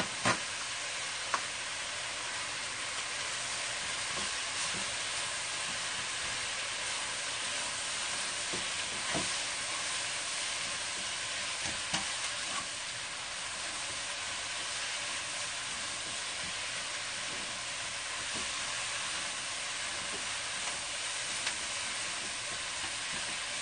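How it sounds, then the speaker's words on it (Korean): Pork and vegetables stir-fry in a pan for a jjajang udon dish, producing a constant loud hissing sizzle with faint stirring clicks and scrapes across the whole stretch. "집에서는 고기를 볶고 난 다음에 거기에 채소를 넣으면 돼요."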